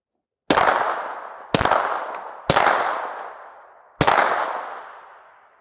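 Four sharp, loud suppressed pistol shots fired through a SureFire Ryder 9 Ti titanium suppressor, each a hard crack with a fading tail, spaced about a second apart with a longer pause before the last, and no talking.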